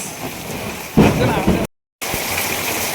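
Heavy rain falling steadily with a burst of louder, rumbling thunder-like roar partway, followed by a brief dropout before the rain resumes.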